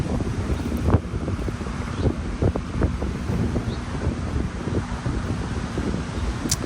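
Strong wind buffets the microphone on a golf course, a steady low roaring rumble with occasional harder gusts and knocks throughout.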